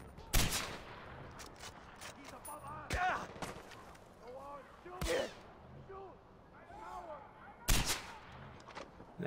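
Several sharp, loud gunshots ring out in Far Cry 4, spaced irregularly with short bursts of fire, while in-game voices and chirping sounds fill the gaps between shots.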